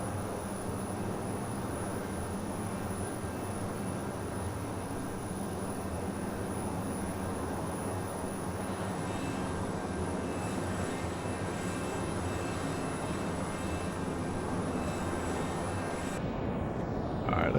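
A Learjet 35 in a flight simulator game produces a continuous, steady jet engine roar in flight with a constant high whine, loud and unchanging throughout, with no talking.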